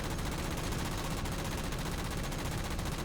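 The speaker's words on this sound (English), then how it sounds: "shots are still going off" Rapid automatic gunfire from Halo Spartan Ops rattles on without pause, a loud, dense stream of closely spaced shots filling the whole moment with no talking.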